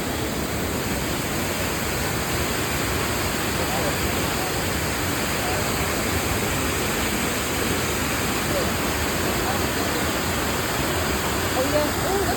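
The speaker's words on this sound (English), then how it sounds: "We at the waterfall." A waterfall in Roswell, Georgia roars as a constant, broad rush of falling water, steady and close, with no pauses or changes in level.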